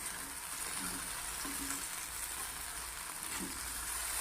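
Dry potato bhaji sizzles faintly in a pan and is stirred now and then, a soft, steady hiss with a few light scraping touches, quiet and close, with no voices.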